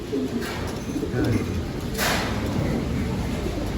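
Young pigeons coo continuously in a loft, soft throaty calls layered over a steady background hum. Someone speaks briefly in Filipino.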